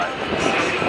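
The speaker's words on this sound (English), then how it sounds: "we're only going to have one pass of this, so we'll get lots of photos on this pass of the KC-10" A US Air Force KC-10 Extender tanker makes a single pass at an airshow, its jet engine roar a steady broadband wash lasting the whole second with no clear rise or fade.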